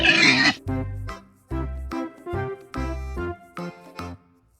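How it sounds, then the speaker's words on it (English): A pig oinks in a quick run of short, nasal grunts, about eight of them in an uneven rhythm, loud and close with no other sound around them. "Yes, it's a pig."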